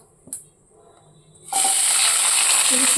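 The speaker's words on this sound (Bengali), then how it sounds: "এবার দিয়ে দেবো কাঁচা লঙ্কা পেঁয়াজ আর আলু" Green chillies, onion and potato hit hot oil already seasoned with panch phoron in a kadai, setting off a loud, steady sizzle that bursts in halfway through and continues to the end after a brief clink.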